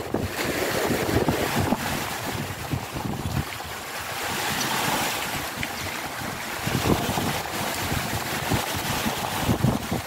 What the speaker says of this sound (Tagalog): Masama ang panahon sa lawa, lakas ng hangin at ang lalaki ng alon.